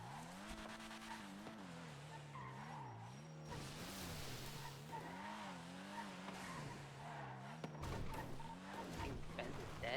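Cars racing in NoPixel GTA, engines wailing and rising and falling in pitch with repeated tire squeals and skids throughout, fairly quiet and continuous.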